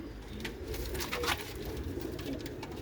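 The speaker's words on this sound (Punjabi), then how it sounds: "ਇਹ ਕਬੂਤਰ ਹੈ ਇਹ ਮਾਦੀ ਇਹ ਬੱਚੇ ਛੱਤ ਵਾਲੇ" Rooftop pigeons, a pair with their young, coo softly and low in a faint, steady murmur against a noisy background, with no voices heard.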